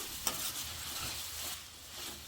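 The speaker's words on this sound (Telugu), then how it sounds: "ఒక స్పూన్ ఎండు కొబ్బరి పొడి వేసి పచ్చివాసన పోయేంత వరకు వేయించి" Dried coconut powder roasting and being stirred in a pan during preparation of a brinjal curry, giving a steady close sizzle with soft scraping strokes throughout, no voices.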